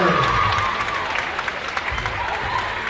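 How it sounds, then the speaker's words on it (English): Crowd applause echoes inside a school gym at a high school cheerleading championship, loud clapping mixed with cheering and a commentator talking over it. "You hear that rhythmic applause inside the gym here at Dallastown for Southwestern Mustangs."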